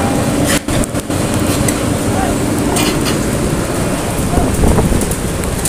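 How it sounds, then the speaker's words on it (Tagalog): Steady, heavy rain hisses across surfaces nearby, a dense constant patter with a few brief louder splashes. "Talaga umuulan na ngayon."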